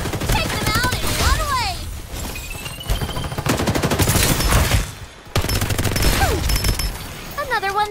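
Gunfire in Farlight 84, a battle royale shooter, with dense rapid volleys running almost without a break. Whooshing and whistling effects sweep through, and voices talk under the shooting.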